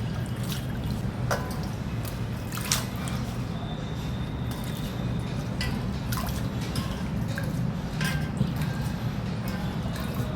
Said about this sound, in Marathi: ही भाजी मी नळाखाली स्वच्छ धुवून घेते